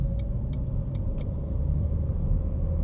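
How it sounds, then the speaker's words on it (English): A 23-year-old Ford Fiesta Mk6, left on a driveway for 12 years, heard from inside while driving: a steady low engine and road rumble with faint ticking clicks over it. "I'm pretty much driving a brand new Mk6 Fiesta."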